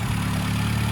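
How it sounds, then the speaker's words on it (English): A 1293 Swift Tune built engine with an SW5 cam, twin HS4 carburetors and a modified cylinder head idles steadily with a loud, even low rumble close by. "This is a Swift Tune built engine, and it's a SW5 cam, twin HS4 carburetors, modified cylinder head."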